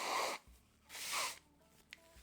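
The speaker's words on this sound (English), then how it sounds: "I felt a sneeze" A person lets out a sneeze, with two loud breathy bursts a moment apart followed by a quieter snort.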